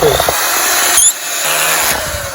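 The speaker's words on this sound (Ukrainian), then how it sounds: "Будемо закручувати наш шуруп і кріпити" A power drill drives a screw through a wooden board while building a raised strawberry bed box outdoors, giving a steady close whine that dips briefly in the middle before spinning up again.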